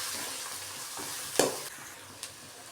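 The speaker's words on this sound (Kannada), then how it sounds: "ಈಗ ಈರುಳ್ಳಿ ಚೆನ್ನಾಗಿ ಫ್ರೈ ಮಾಡ್ಕೋಬೇಕು" Onions and turmeric frying in a pan for Kannada-style mango rice give a steady, close sizzle, broken by a sharp spatula scrape near the middle and a softer clink later.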